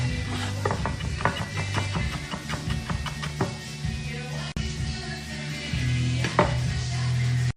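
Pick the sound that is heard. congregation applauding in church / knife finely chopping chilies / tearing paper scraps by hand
knife finely chopping chilies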